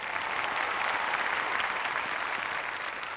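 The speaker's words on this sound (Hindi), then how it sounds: "प्लीज प्लीज प्लीज जोरदार तालियां लेडीज एंड जेंटलमैन" A studio audience on a Hindi television game show applauds in a continuous, even wash of many hands clapping at moderate loudness, with no voices over it.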